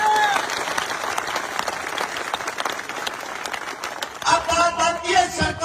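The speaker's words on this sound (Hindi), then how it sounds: "मैं चाहता हूं झुंझुनू के नाम की जोरदार तालियां होनी चाहिए एक बार" A crowd at a live political speech claps steadily and fairly loudly, and the applause swells near the end.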